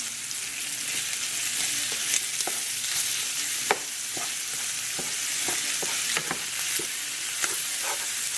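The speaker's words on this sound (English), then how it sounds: "I'm going to add a little bit of this country rock butter" Butter sizzles in a hot pan while shrimp spaghetti cooks. A steady, loud frying hiss runs throughout, with scattered clicks and scrapes from stirring.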